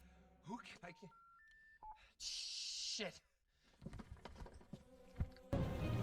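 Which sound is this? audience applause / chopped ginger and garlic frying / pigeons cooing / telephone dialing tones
telephone dialing tones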